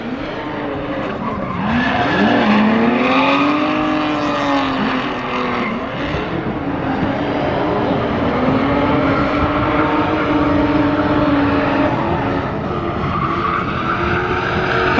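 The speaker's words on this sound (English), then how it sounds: "Drift car." A turbocharged drift car at a Nissan car show revs loudly and continuously, its engine pitch sweeping up and down with tire squeal and skidding as it slides nearby, without pause for the full stretch.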